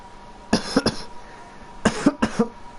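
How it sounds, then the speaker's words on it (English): Two bursts of harsh, close coughing, a pair of coughs then a rapid cluster of three or four, with quiet room noise between. "It's no wonder you're coughing so much"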